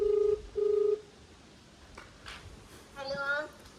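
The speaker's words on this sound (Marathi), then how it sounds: "आता आम्ही घरी मम्मीला फोन लावून राहिले" A phone dialing a call home: two long, steady electronic tones at the start, then quiet room noise and a brief voice near the end.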